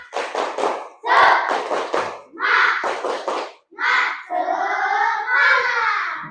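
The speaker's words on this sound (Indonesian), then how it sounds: "Tepuk semangat." Classroom students doing a rhythmic spirit clap in a lesson: loud unison clapping in short patterned bursts, with the children chanting along between the claps. The sequence ends in a sustained shout.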